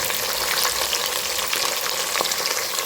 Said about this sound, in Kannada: ತುಪ್ಪದಲ್ಲಿ ಫ್ರೈ ಆಗುತ್ತೆ.